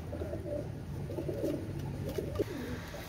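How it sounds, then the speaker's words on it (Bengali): Pakistani Teddy pigeons coo softly in short, rolling calls, close by and fairly quiet, with no talk. "আপনারা কবুতরগুলো দেখেন অনেক সুন্দর ভাই মাশাআল্লাহ"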